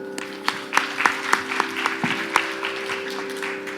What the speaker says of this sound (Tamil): கரகோஷங்கள்